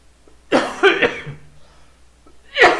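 A teacher coughs close to the microphone during a math lesson in a quiet room: a sharp burst of coughs, then a short pause and another cough.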